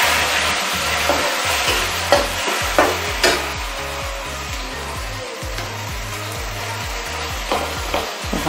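Chopped onion fries in a pan with a pinch of asafoetida until lightly browned, giving a steady close sizzle punctuated by sharp spatula scrapes, over a low rhythmic pulsing hum.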